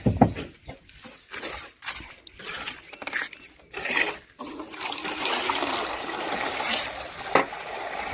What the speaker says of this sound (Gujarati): પાણીની ડોલ.